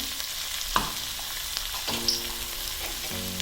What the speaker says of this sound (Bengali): হলুদ গুঁড়ো ভাজবো